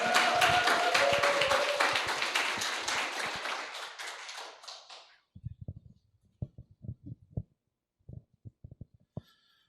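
A crowd at a business success-story seminar applauds as a speaker is welcomed to the stage, loud dense clapping that fades out over about five seconds, then a few scattered isolated claps and taps in near silence.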